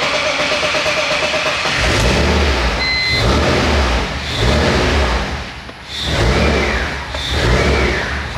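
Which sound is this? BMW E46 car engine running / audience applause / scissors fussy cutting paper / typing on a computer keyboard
BMW E46 car engine running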